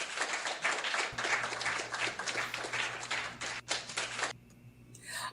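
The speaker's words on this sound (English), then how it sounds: "But wait, I have an applause button." An applause sound effect from a button: crowd clapping steadily for several seconds, then cutting off abruptly, followed by a brief faint rustle.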